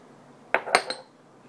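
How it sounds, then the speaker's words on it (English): A spoon clinks against a glass a few times while a Brahmi herbal brain tonic is stirred, three quick bright taps close by in an otherwise quiet room. "Just gonna mix it a little bit."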